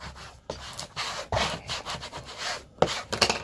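Layered vinyl film is rubbed by hand, producing short, close scraping strokes in an uneven rhythm with small gaps between them.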